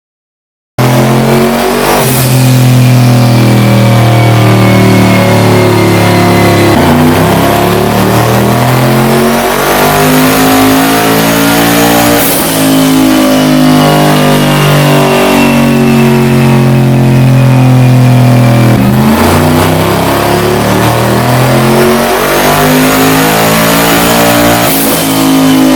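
A twin GT45 turbocharged, LS-swapped Fox Body Mustang screams through repeated loud dyno pulls, each a long rising rev that climbs in pitch and then drops off, close and continuous with no talk.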